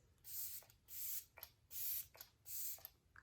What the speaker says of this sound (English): I love the sprayer